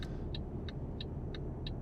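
A Volvo FH16 truck in the Euro Truck Simulator 2 game idles with a steady, low engine rumble, while a faint, regular ticking repeats about three times a second over it.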